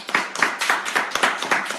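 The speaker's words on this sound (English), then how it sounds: "So let's greet and applaud for Anna." A church congregation claps together in a regular, rhythmic beat, about three claps a second. The sound is steady, moderately loud and close, with no voices over it.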